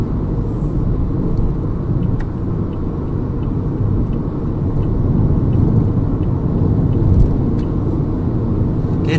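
A manual car's engine rumbles steadily while cruising in relaxed driving, a loud continuous drone with slight swells in level and no distinct gear change audible.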